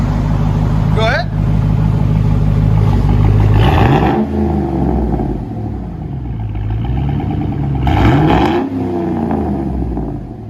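Chevy Suburban with a 5.3L V8 and Flowmaster Flow FX exhaust revving hard. Two loud rising-and-falling rev sweeps rise over a steady rumbling idle, close by, with voices talking.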